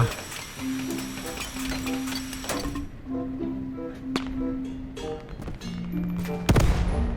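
Tank cannon fire with HE shells in Roblox Multicrew Tank Combat 4, heard as a few sharp, separated shots and impacts over a steady droning engine hum and game background noise.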